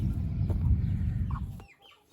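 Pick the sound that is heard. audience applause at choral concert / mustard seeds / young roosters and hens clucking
young roosters and hens clucking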